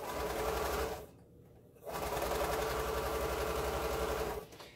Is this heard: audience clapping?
no